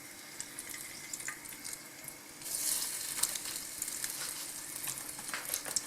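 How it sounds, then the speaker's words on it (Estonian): Chebureki, filled pastries, sizzle and crackle in hot oil. The steady frying hiss swells louder midway as the oil bubbles up more vigorously, with scattered pops and no voices. "nüüd näeme, kuidas ta siin praeb."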